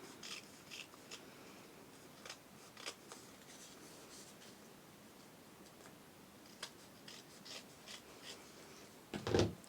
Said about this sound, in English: just take your scissors and just trim those edges